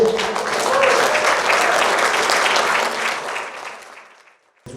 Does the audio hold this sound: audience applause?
yes